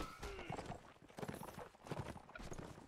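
Horse hooves clip-clop in a video game, an uneven run of quick thuds near the listener, fairly faint, with a brief neigh-like sound and no clear speech.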